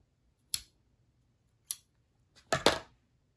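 Scissors trim string on a dream catcher craft, giving a few sharp, close snips: one, a pause, another, then a quick double cut, with near silence between.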